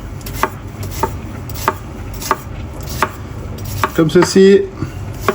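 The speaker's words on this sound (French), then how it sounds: "On le coupe. On tranche de ce côté." A knife slices a shallot on a cutting board in steady, evenly spaced knocks up close. A short spoken phrase and some clatter come at the end.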